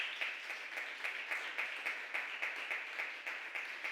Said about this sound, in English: Let's keep that round of applause going for a second place winner, Tamika Mouchette